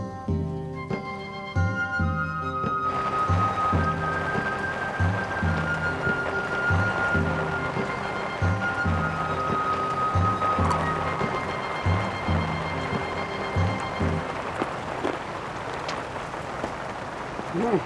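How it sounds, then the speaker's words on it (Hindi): Rain falls steadily outside a tent in a television drama scene, a soft continuous patter and hiss with some low rumbling beneath, while faint musical tones and a voice rise over it now and then. "बाहर बारिश हो रही है"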